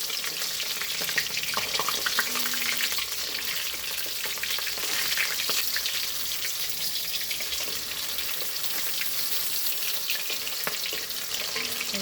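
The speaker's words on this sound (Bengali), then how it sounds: "এটা লাল লাল করে এবার ভাজবো।" Pakoras frying in hot oil until reddish, a constant bright crackling sizzle with scattered pops, close and fairly quiet, unbroken for the whole stretch with no talking.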